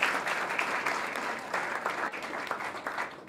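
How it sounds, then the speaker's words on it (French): Audience applause at a wedding ceremony in Kinshasa, a dense steady clapping that carries at full strength for a few seconds with no talk over it. "on peut acclamer les seigneurs"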